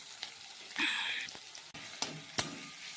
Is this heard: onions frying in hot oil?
yes